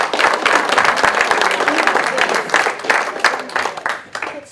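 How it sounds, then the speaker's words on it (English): An audience at a mentalist's show at an adult social center applauds with steady, dense clapping that stays loud for several seconds before starting to thin out at the end. "Give her a round of applause"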